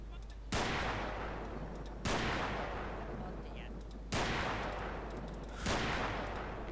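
Four loud, sharp gunshot cracks from a sniper rifle in GTA III, evenly spaced about two seconds apart, each with a long, ringing decay that fills the gap before the next shot.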